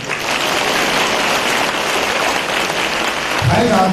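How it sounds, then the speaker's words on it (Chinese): Loud, sustained applause from an audience at a Buddhist dharma assembly in Singapore, a steady dense wash of clapping that runs the full length, with a voice starting to speak near the end. "鼓掌。"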